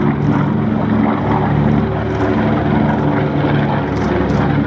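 A B-25 medium bomber flies at an air show, its piston propeller engines making a loud, continuous droning roar that holds steady throughout.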